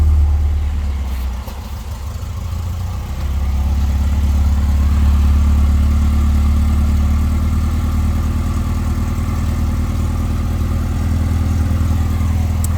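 A 1967 Alfa Romeo Duetto Boat Tail Roadster's engine runs at a steady idle, a deep, loud, close rumble that dips briefly early on and then settles into a constant throb.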